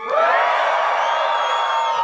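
A live audience at a network marketing seminar screams and cheers loudly in a sustained, dense roar that lasts the whole stretch.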